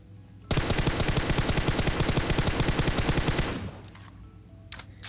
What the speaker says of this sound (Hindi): मैं M4 से मारूंगा उसको गोलियां।